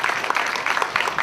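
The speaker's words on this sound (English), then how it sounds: "Can we give our panelists a big round of applause?" Applause from a panel discussion audience after a film talk, a short patch of scattered clapping from a modest crowd, moderately close and fading slightly toward the end.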